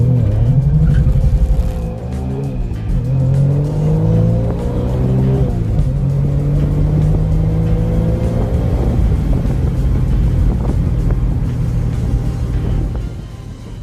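Tuned Suzuki Cappuccino accelerating hard on a 0–100 km/h run, engine note climbing through successive gears with brief dips at each shift, loud and close, no talking.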